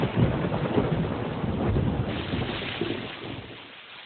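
Heavy rain with rolling thunder, a dense, continuous roar of downpour and low rumbles that swells in the middle and slowly fades toward the end.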